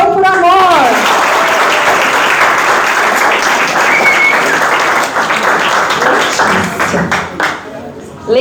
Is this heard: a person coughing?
no